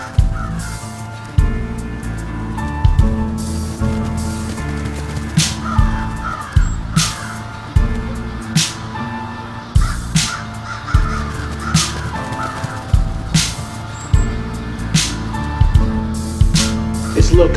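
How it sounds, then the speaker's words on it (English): Crows caw repeatedly in a steady rhythm over a looping hip-hop beat, their calls loud and regular, with rapping voices throughout. "just follow the flock of crows"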